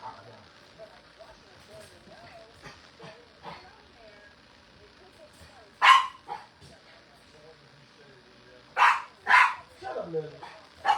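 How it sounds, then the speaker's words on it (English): A dog named Lily barks in a home kitchen, several sharp, loud barks in bursts with quieter yips between, and people talking nearby. "Lily, who are you barking at?"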